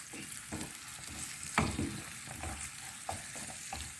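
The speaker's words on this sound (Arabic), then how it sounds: "غنحركو حتى تندمج" A carrot, zucchini and egg cake mixture stirred in a hot pan, a soft sizzle under several rhythmic scraping strokes with a louder knock near the middle, no talking.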